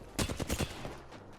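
Hip-fire gunshots in the video game Apex Legends crack out as a rapid burst of about four or five close, punchy shots, then fade into a quieter tail.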